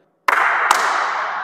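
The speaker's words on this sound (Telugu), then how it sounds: "ఇప్పుడు మన వాళ్ళు క్లాప్స్ కొడతారు, ఆ రీసౌండ్ ఏనండి ఎలా వస్తున్నది ఒకసారి" Inside a rock-cut cave temple, a single sharp hand clap rings out and is quickly followed by a second one, and both leave a long, bright reverberating tail in the stone chamber.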